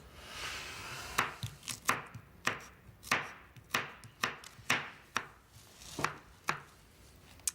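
A knife chops vegetables into small pieces on a board, with a steady run of crisp, evenly spaced close knocks and no voices.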